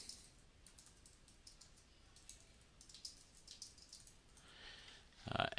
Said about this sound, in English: Type your content in.